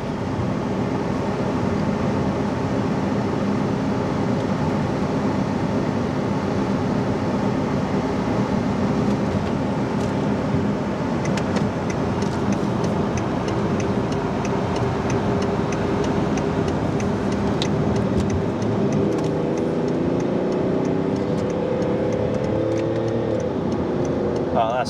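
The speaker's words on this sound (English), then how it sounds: "Just going to do a little pull, see if it kicks down and shifts nice and smoothly as we get into the higher RPMs." BMW X5 accelerating hard on a motorway as the transmission kicks down and climbs through the gears, a steady loud in-cabin engine and road drone that rises in pitch toward the end, with a voice talking over it.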